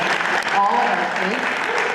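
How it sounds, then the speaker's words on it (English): Applause at a school board meeting, dense clapping from the room with voices talking over and through it, fairly close and moderately loud for under two seconds. "I think Tracy deserves some applause from all of us"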